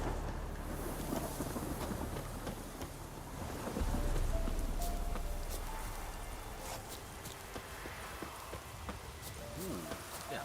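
Steady rain and low rolling thunder from a storm in The Witcher game, with a louder swell of thunder near the middle and a voice talking faintly over it.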